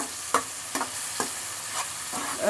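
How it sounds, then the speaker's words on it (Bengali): Onion, garlic and ginger fry in fish oil, a close hissing sizzle punctuated by three or four sharp scrapes of a spatula stirring the pan. "পেঁয়াজ রসুনের আদার সাথে দিয়ে দিলাম দিয়ে আবার একটুখানি নেড়ে নিই"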